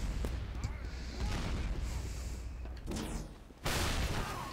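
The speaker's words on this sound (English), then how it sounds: "I'm lobbing grenades over the top" Grenades exploding in a Team Fortress 2 match, with several dull blasts and bursts over a busy game mix and a sharp loud burst near the end.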